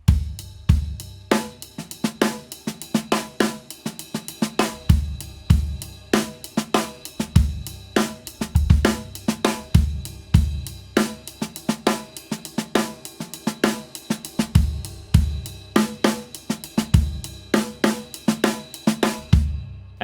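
Amen break groove played slowly on a drum kit, a steady rhythm of kick, snare and cymbal hits repeating for bars, close and solo without voices.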